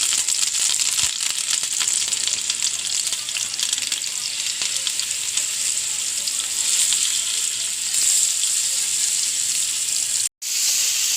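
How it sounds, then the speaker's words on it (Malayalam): Fish frying in hot oil for a home-cooked meal gives a loud, steady, close sizzle that runs almost without a break, cutting out briefly near the end. "മീൻ വറുക്കാടാം"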